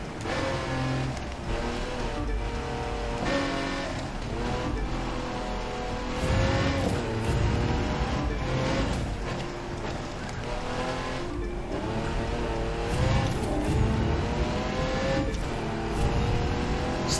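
Street race car engine roaring in the racing video game The Crew 2, revving and shifting through gears with bursts of acceleration and occasional tire squeal, loud and continuous with background music, no talk.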